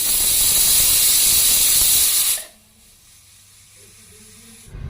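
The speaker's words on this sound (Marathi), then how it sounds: "ही डाळ आपण कुकरला दोन ते तीन शिट्ट्या करून घेऊयात" A pressure cooker cooking chana dal blasts a loud, steady hiss of escaping steam that cuts off abruptly after about two seconds, leaving a quiet low hum before another brief burst starts at the end.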